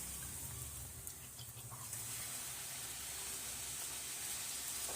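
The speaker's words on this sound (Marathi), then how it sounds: "अशा पटपट आपल्या पुऱ्या भाजून होतात हाय फ्लेमवर" Puris fry in hot oil over a high flame, a continuous bright sizzling hiss with a low bubbling rumble beneath, steady and close.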